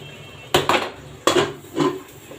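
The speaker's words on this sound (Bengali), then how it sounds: "ঢাকা দিয়ে দেব।" A lid placed over a cooking pot of sautéed potatoes: two pairs of sharp metallic knocks and clatters close by, with quiet gaps between them.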